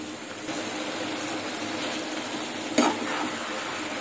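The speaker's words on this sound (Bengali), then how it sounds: "এভাবে একটু নেড়ে ছেড়ে রান্না করে নিচ্ছি।" Chicken and vegetables cooking in a pan with a steady frying sizzle throughout and a brief stirring scrape near the end, close and continuous.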